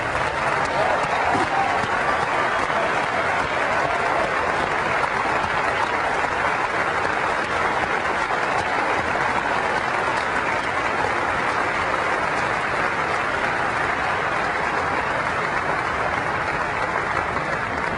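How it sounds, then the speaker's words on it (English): Long, steady roar of audience applause at Macworld New York 2000 for Apple employees, a dense wash of clapping from a large crowd that continues unbroken and evenly loud throughout. "Let's give them a round of applause"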